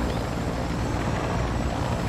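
Steady helicopter rotor drone from a Call of Duty style video game, continuous and loud throughout with dense low thumping and broad noise, no talk over it.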